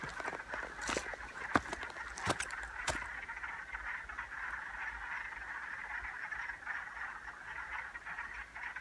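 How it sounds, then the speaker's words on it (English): A chorus of many frogs croaking continuously in the distance, a faint steady trill, with a few sharp knocks near the start. "Heck of a pile of frogs down there, having themselves a great time."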